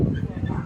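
A dog at a Harley-Davidson motorcycle rally gives a short, close whimpering yip over a dense low rumble of crowd and engines.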